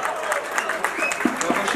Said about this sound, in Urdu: تالیاں ہونی چاہیے آپ سب کو